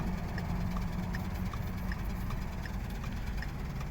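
A car engine idles at a steady, low rumble, with a faint tick repeating at a regular pace over the hum and no one speaking.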